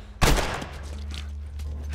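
Gunfire in the video game The Last of Us: one loud, close shot with a sharp attack, followed by a decaying echo and a low rumble that lingers underneath.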